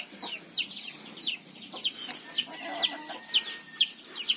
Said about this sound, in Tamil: இப்ப என் கோழிகள் அதை சாப்பிட்டுட்டு இருக்கு.